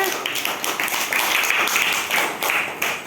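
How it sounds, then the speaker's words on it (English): Children clapping together in a classroom for a classmate, a dense run of light, quick claps lasting a few seconds, close and fairly loud, with a faint voice underneath. "Clap for Bonner."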